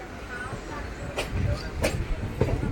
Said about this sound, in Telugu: మరి అదేనండి, బేదర్ లక్నో సూపర్ ఫాస్ట్ ఎక్స్ప్రెస్